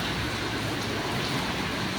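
Rain falls steadily at night during a road test of motorcycle LED laser headlights, a constant close hiss with no speech over it.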